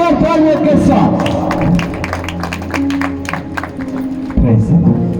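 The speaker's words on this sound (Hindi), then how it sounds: "आपकी जोरदार तालियों के साथ" Loud congregational applause fills a church hall during a Sunday service, a dense steady wash of clapping with crowd noise and a few voices mixed in, continuing close and strong throughout.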